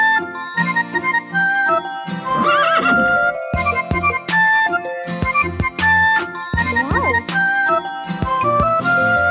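A horse neighs twice and hooves clip-clop in a children's Telugu nursery rhyme, set over loud, bright music with continuous melody and percussion.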